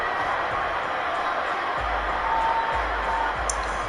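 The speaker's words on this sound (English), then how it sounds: "Good crowd watching on this Friday night." Stadium crowd in an NFL football video game keeps up a steady, distant roar of cheering, with faint low thumps beneath the continuous wash of noise.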